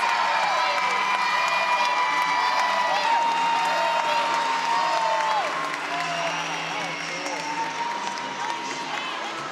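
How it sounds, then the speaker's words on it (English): Gymnastics fans at an Ohio State vs NC State meet cheer and applaud in an arena, a loud continuous roar of whoops and clapping that eases slightly toward the end. "You hear the fans."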